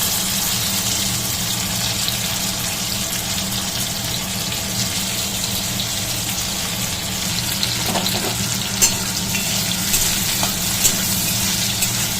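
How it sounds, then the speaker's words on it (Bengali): Cashews and raisins, soaked beforehand, frying in hot oil with a loud, steady sizzle that runs the whole time, plus a few faint clinks near the end. "এবার ওই তেলেই যে কাজু কিশমিশগুলো ভিজিয়ে রেখেছিলাম ওগুলো ভেজে"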